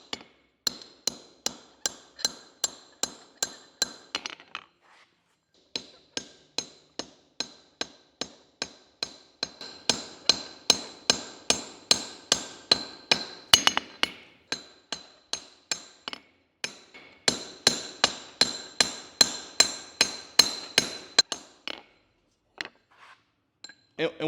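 Hand hammer blows ringing on hot steel pipe over an anvil while a taper is forged, fast regular bursts of sharp metallic strikes separated by short pauses, close and bright.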